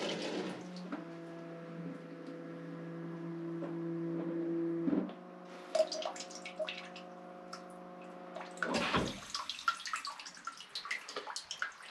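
A Brondell Swash CL1500-CW bidet sprays water over a steady motor hum, running evenly for about nine seconds before the spray cuts off, leaving scattered drips and splashes.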